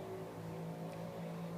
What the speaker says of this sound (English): Do you hear the motorcycle?